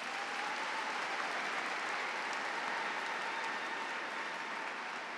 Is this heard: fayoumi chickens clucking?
no